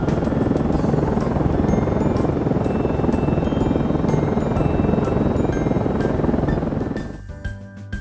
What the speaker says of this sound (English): green, Helicopter.